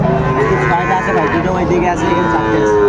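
Cattle moo loudly and continuously at a busy village cattle market where small bulls and heifers are sold, with overlapping calls from several animals over a dense crowd din.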